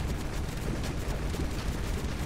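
Explosion punches in the video game God Of Weapons set off a continuous rumbling flurry of overlapping blasts, low booms mixed with crackle, steady and unbroken throughout.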